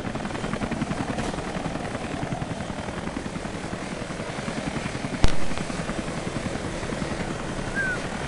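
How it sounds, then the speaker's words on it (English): A helicopter flies overhead in the video game Rise of the Tomb Raider, its rotor thumping steadily and loudly throughout, with a sharp impact midway. "Helicopter is up here."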